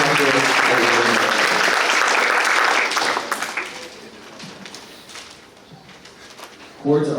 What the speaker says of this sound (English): Please give a round of applause for the 2025 senior class